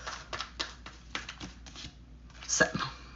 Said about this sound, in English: Hold on, let me shuffle again.